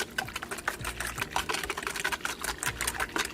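Rapid rhythmic whisking of milk in a bowl for homemade cheesecake ice cream, a steady clatter of quick strokes at close range with no talking.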